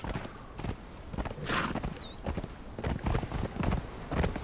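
Horse in the game Conan Exiles moving at speed, rhythmic hoof clip-clops with a short whinny partway through, moderately close over a low background.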